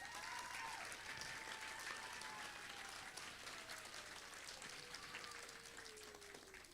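An audience at a school award ceremony applauds, producing dense, sustained clapping from many hands that stays even throughout and fades slightly at the end.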